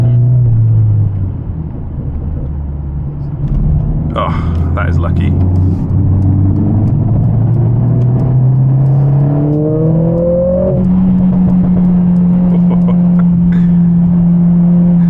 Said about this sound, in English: Always love those downshifts.